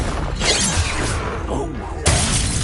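In Hogwarts Legacy, the Confringo spell goes off as a dense, roaring fiery burst that fills the whole clip, with a second sharp impact swelling in near the end amid game combat noise.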